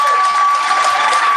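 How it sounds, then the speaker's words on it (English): An audience at a Republican town hall debate applauds in a short, steady burst of clapping throughout, with a constant tone audible underneath. "Please, round of applause for Matt Sadler."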